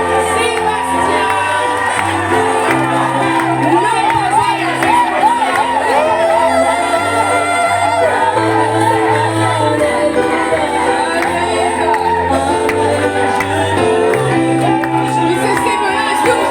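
A church congregation cheers and shouts acclamations at a baptism service, a loud, continuous crowd roar blended with music and voices throughout.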